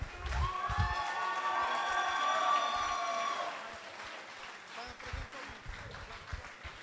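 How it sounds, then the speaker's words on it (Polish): Crowd applause and cheering fill a boxing event hall, a sustained burst of clapping with raised voices that fades after a few seconds while an announcer's amplified voice carries over it. "Wielkie brawa!"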